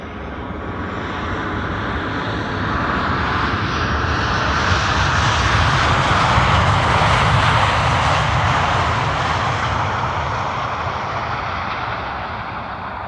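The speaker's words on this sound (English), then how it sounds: "KLM flight 1924," KLM passenger jet arriving at Amsterdam Schiphol Airport, a broad engine roar that builds, peaks as it passes fairly close, then fades, with no voices.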